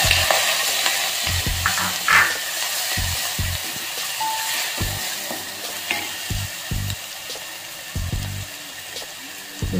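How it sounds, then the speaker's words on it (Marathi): Cumin, asafoetida and ground chili with garlic sizzle loudly in hot oil, a dense close crackle with repeated thumps and scrapes of a spoon stirring the pan throughout, no voices. "थोडी जिरे, हिंग आणि आपण मिरची आणि लसूण बारीक करून घेतलेला आहे तो टाकायचा."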